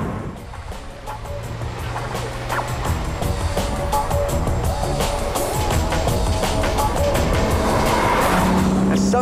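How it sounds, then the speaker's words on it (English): A BMW Z4 with a straight-six engine and six-speed manual gearbox revs hard and rises in pitch through gear changes, loud and close, with tyre noise and a voice speaking over it. "There's something about the yowl of a straight six."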